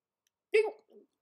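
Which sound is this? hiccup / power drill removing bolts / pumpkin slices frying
hiccup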